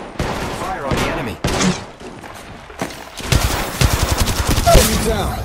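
Gunfire in the mobile battle royale game Apex Legends Mobile: loud bursts of rapid automatic fire and single shots in quick succession, with brief gaps between volleys.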